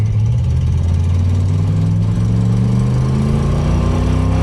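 A 1968 Ford Mustang Fastback pulling away at full throttle, its engine a loud, close, continuous roar that climbs steadily in pitch through the whole run, with no voices.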